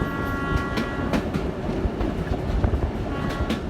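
Train rumbling past at close range, with steady low roar, clattering wheel noise and faint metallic squeal throughout, and no voices.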